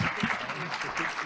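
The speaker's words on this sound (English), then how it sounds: "Let's give them an applause." Audience applause at a board of education meeting, a short, fairly faint patter of clapping from a crowd with a voice briefly over it.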